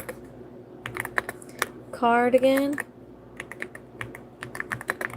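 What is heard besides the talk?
typing on a computer keyboard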